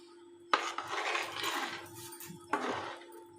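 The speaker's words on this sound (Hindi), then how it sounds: "इसी तरह हमने घुमाते हुए इसे ऐसे ही मिक्स करना है।" Strawberry custard mixture stirred in a bowl, a continuous wet swishing and scraping with two sharp clinks of a spoon against the bowl, close and fairly quiet, no talking.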